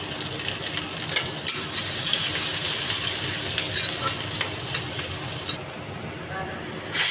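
Grated ginger and chopped green chili fry in hot oil already seasoned with whole cumin and asafoetida, a close steady sizzle with stirring clicks and scrapes scattered throughout, while a person talks over it.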